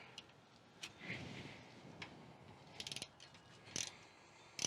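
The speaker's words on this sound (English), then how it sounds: "This is the Nyloc nut, and you remove it from the connecting link." Metal clicks and ratcheting taps from a wrench working a 1/2 inch Nyloc nut off the connecting link of a David Brown 990 tractor, a few scattered bursts against a quiet background.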